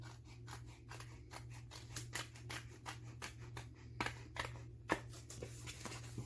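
Scissors trim a laminated magnet sheet in a classroom craft, a quiet close run of crisp snipping cuts in an uneven rhythm, several strokes per second with brief pauses, over a faint steady hum.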